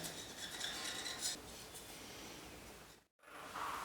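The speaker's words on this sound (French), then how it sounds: "je découpe des bandes avec un couteau bien tranchant" A sharp knife slicing pastry dough into strips for a stuffed minced-meat bread, giving a soft steady scraping rasp against the board, with a brief silent break near the end before the scraping resumes.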